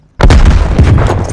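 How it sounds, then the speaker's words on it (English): A frag grenade explodes in Call of Duty: Black Ops Cold War: after a short near-silence, one loud, close boom bursts out and rolls on with crackling debris and rumble. "Throwing frag!"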